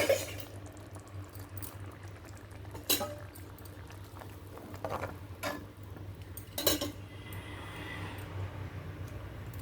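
Tamarind extract is poured into a cooking pot of water for a pesara punugulu pulusu, with liquid sloshing and pouring, several sharp clinks of a metal utensil against the pot, and a simmering background hiss, no talking.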